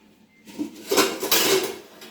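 Metal pots, pans and a pressure cooker in a home kitchen clank and clatter in a quick burst of close handling, with a few bright knocks and scrapes.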